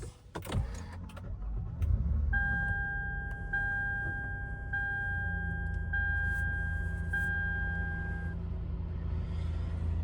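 A 2015 Lexus RX350 engine cranks and catches, settling into a smooth, quiet idle, while a series of regular electronic chime tones sound from the dashboard over the running engine.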